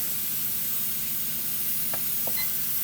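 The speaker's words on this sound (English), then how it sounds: "It's hard to see the steam, but we have a steady flow of steam." Steam vents from a pressure canner during beet canning, a steady, even hiss that holds at one level throughout, with a couple of faint clinks near the end.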